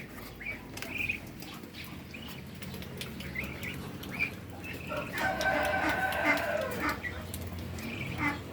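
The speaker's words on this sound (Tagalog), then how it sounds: "Kakain tayo ng mga alaga natin na Muscovy ducks." Muscovy ducklings feeding on a farm, with scattered high peeps and chirps over a constant low background rumble and a denser flurry of calls midway.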